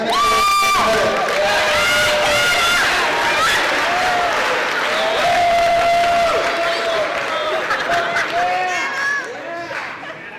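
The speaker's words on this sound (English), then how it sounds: "So how about a nice warm round of applause for Hannah and" A school audience applauds and cheers for student introducers at a speaker event, with dense clapping mixed with high whoops and youthful shouts, loud and close, tapering off toward the end.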